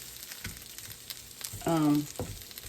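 Slices of country ham frying in a pan until crispy, with a soft steady sizzle throughout and a brief louder tonal clink or scrape near the middle.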